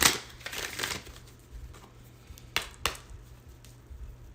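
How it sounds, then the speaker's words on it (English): Tarot cards being shuffled close by, a few quick riffling bursts and soft snaps with quiet pauses between, no voices. "I'm gonna shuffle and try to draw one."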